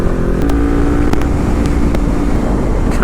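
Kawasaki Ninja 400 motorcycle engine drones steadily while riding on the road, close and loud, mixed with rushing wind, with brief clicks cutting through.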